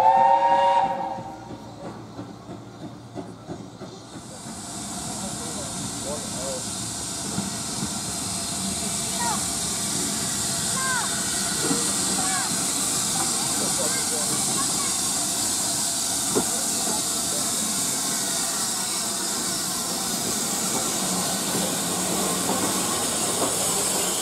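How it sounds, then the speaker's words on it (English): The steam locomotive Oliver Cromwell hauling a train toward Loughborough on the Great Central line, starting with a sharp whistle and then a long loud hiss of steam with faint chuffing and clanks, and a voice briefly at the start. "Oliver Cromwell takes his very same train back down to Loughborough"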